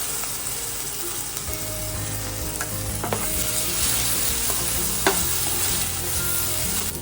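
Ground masala paste sizzles and fries loudly in an oily crab gravy for Aagri-style crab dishes, with continuous hissing broken by scraping stirs and occasional spoon clinks.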